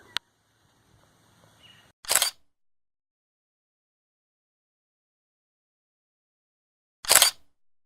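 Two sharp camera shutter clicks sound several seconds apart, each a brief close snap in an otherwise quiet room.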